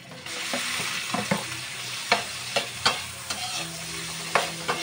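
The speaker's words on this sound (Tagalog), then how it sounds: "Tsaka ito ng ating laman. Igisa na natin." Garlic, onion and meat sautéing in a pan for pancit canton, giving a steady sizzle broken by repeated sharp clacks and scrapes of a spatula against the pan.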